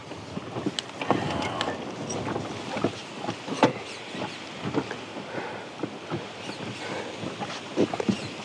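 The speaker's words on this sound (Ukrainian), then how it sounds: "Піднявся гарний вже вітер." Gusty wind rumbles across the microphone outdoors while spin fishing in summer, with scattered knocks and splashes of water against a small boat.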